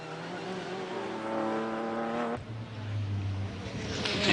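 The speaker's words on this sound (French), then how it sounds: "Toyota équipé d'un V8 turbo." A Toyota Sard race car with a turbocharged V8 at the 1994 Le Mans 24 Hours, its engine droning loudly at high revs, then the pitch drops abruptly and the roar builds again as it passes.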